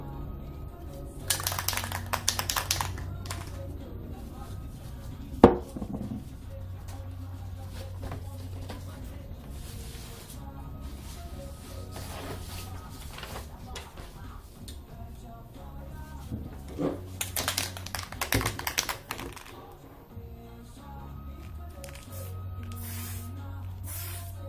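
Spray paint can spraying a fine line: several short, hissing bursts of spray, close and moderately loud, separated by quiet pauses and small handling noises.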